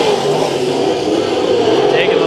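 Race cars accelerate on a restart at Bakersfield Speedway, a dense, steady engine roar that holds constant throughout, with an announcer talking over it.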